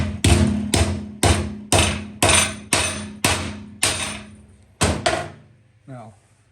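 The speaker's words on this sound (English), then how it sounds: "now I'm going to square it off with the hammer" A hammer strikes metal clamped in a vice, squaring off a hand-started bend: about nine loud, evenly spaced blows with a ringing decay, followed by a softer tap and a brief faint sound.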